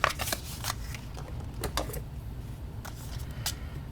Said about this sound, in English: we'll fold and burnish